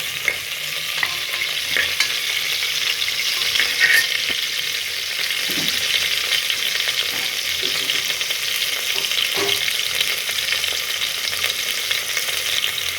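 Tomato frying for mutton biryani sizzles steadily and loudly, with occasional scrapes and taps from stirring in the pan throughout.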